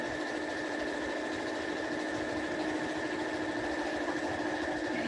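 A sewing machine stitches quilt binding a quarter inch in, running at a steady, fast, even whir with a constant mechanical buzz throughout, close and unbroken.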